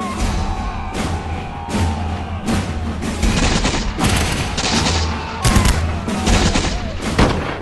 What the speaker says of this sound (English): The Americans are able to fire just a few volleys before they are overrun.